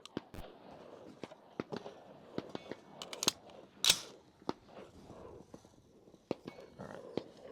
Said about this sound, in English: So, first round shooting.